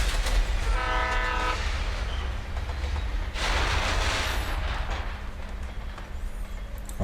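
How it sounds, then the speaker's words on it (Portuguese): Train rolling across a bridge directly overhead in the video game Alan Wake, a loud continuous rumble with a horn-like tonal blast early on and a surge of rushing noise midway, with no talk. "O trem tá passando bem em cima."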